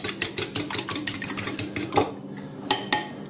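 An egg is whisked in a bowl with a fork or whisk for a glaze, a close, rapid run of light metallic clinks and taps that pauses briefly and then resumes.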